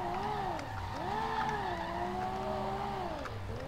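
A car engine in the video game SLRR drones at a steady high pitch while a VAZ Zhiguli drifts, its tone swooping up and down as revs rise and dip, with faint tire skids underneath.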